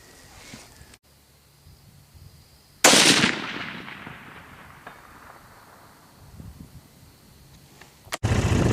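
A single loud crack from a Remington 700 SPS .308 rifle fired at a 500-yard target, its boom rolling away in a long fading echo across open ground, followed by another sharp sound at the end.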